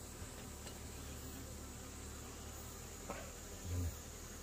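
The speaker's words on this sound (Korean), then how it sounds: "지금은 말벌이 지금 좀 많습니다." Hornets buzz around beehives in an open field, a faint, steady hum with one brief louder pass near the end as an insect flies close.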